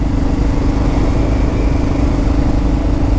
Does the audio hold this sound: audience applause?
no